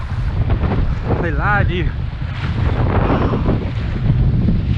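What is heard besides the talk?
strong wind while kayak fishing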